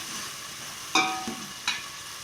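Mutton goes into a pan of cooking onion and tomato over a soft background sizzle, with a few sharp metallic clinks and scrapes of a spoon against the pan.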